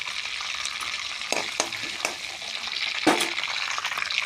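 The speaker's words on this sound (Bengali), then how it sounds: "বন্ধুরা এখন এই তেলেতে দিয়ে দেব দারচিনি এলাচি দিয়ে দিলাম তারপর দিয়ে দেব চারটে তেজপাতা" Cinnamon, cardamom and four bay leaves frying in hot oil for a chicken curry, a steady close sizzle with a few sharp crackles and pops, no voices.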